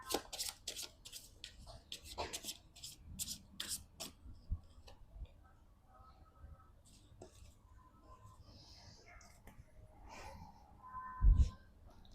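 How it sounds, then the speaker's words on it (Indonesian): A deck of cards being shuffled close by, with a quick burst of crisp riffling flutters at the start, then quieter handling and a single soft thump near the end. "sekarang aku mau pakai deck kartu yang ini"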